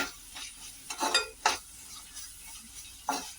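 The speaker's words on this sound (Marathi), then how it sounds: "या कांदा पण आपल्याला चांगला परतून घ्यायचा आहे" Finely chopped onion is sautéed in a pan for macaroni pasta, with a soft sizzle under several brisk stirring scrapes of a spoon against the pan, close and fairly loud, no talk.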